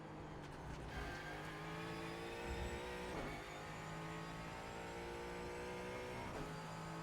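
Ford Mustang GT4 race car lapping Brands Hatch Grand Prix circuit in iRacing, continuous engine roar with rising and falling revs and quick gear changes through corners, loud and close, no talk.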